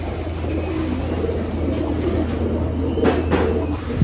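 Breeder pigeons in a loft and aviary coo in low, soft bursts, set against a steady low hum and faint background noise, moderately near.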